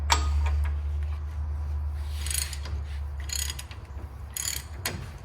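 Socket ratchet working loose the fork cap on a John Deere Z970R zero-turn mower, a steady clicking pawl over a loud low hum, with brief brighter bursts of metal noise near the end.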